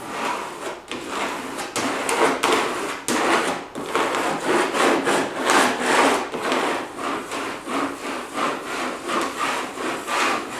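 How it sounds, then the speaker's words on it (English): A plastic trowel spreading metallic pearl faux finish across a board, giving a steady scraping, rubbing texture in repeated strokes, close and even, with no talking. "And let's just get that plastic trowel in here."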